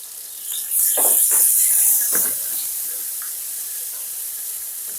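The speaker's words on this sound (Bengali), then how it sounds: "তেলের মধ্যে এবার গ্রেট করে রাখা পেঁয়াজ আর রসুনের পেস্টটা দিয়ে দিলাম।" Grated onion and garlic paste hits hot oil for a Bengali fish curry, giving a loud, close hiss that surges in the first couple of seconds, then settles into a steady sizzle.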